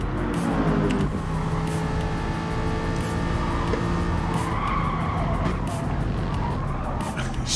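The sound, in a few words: race cars at Bathurst in video game GT Sport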